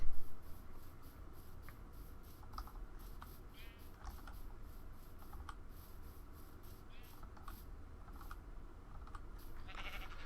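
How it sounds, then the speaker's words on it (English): Sheep bleating in the Minecraft video game, a few short bleats scattered over a steady background of clicking and game ambience, with no talk. "Tons of sheep."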